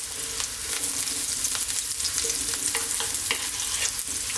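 Garlic and ginger fry in sesame oil for chicken and broccoli fried rice, giving a steady, close sizzle with frequent small crackles and pops throughout, with no talking.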